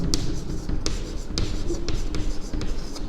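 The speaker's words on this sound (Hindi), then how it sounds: "और मैं लिखता हूँ" A pen or marker writing out maths on a surface, a rapid series of scratchy strokes and taps in an irregular rhythm, close and clear, no talking.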